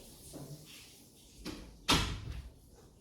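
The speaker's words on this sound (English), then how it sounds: "I'm gonna close the door, okay?" An indoor door is pushed shut with one firm thud near the end, after a few softer handling sounds, and no one speaks.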